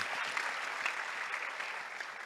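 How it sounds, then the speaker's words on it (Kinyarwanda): A crowd claps steadily throughout, a dense, even patter of applause at moderate distance. "Mubampera amashyi."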